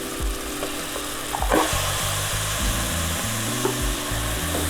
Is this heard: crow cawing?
no